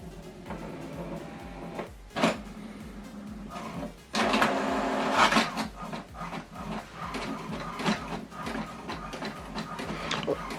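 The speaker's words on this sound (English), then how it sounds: "what it's doing now is printing the welcome information that I sent to this printer" Quiet mechanical whirring and clunks of an HP Deskjet 2700e inkjet printer feeding and printing an alignment page, with a few louder thumps and sliding movements, fairly close.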